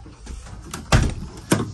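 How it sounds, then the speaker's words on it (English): Rear doors of a Sprinter van being opened, with a few metallic clunks and latch knocks, two sharp louder thuds standing out close by with no talk. "these back doors, they open up"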